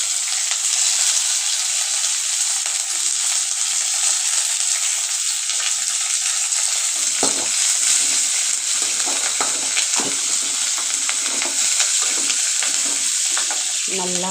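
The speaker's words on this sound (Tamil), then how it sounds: "நல்லா வதங்கட்டும்." Small onions and curry leaves fry in a pan for a spinach keerai kadaiyal, a close, steady sizzle with soft scraping stir strokes breaking in during the later half.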